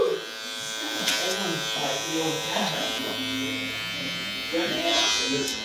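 Electric hair clippers buzz steadily while cutting a man's medium-length hair clipper-over-comb, a close continuous hum with faint snipping texture and a few brief swells.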